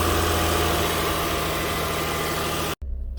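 A 2011 Nissan Quest, towed in with a no-crank fault, idles just after starting, a steady close engine hum that cuts out briefly near the end before resuming.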